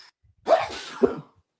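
A single sneeze, a sharp, close burst with a second explosive push, set against quiet surroundings.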